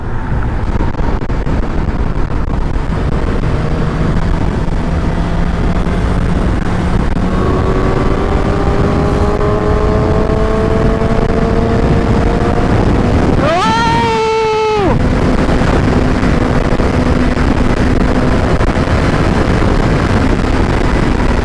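A Suzuki GSX-S750 motorcycle is ridden on an expressway, with heavy wind roar over the engine hum and rising engine tones as it accelerates. A brief sharp swell of revs stands out midway, loud and continuous.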